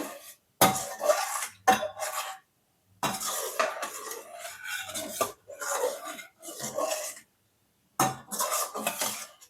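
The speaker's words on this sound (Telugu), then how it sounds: "ఇలా అంచులు కూడా కలుపుకుంటా మిక్స్ చేసుకుంటా ఉండాలి" Boiling milk is stirred in a pan, heard as a run of separate bursts of metal utensil scraping and clinking against the pan, with short silent gaps between them.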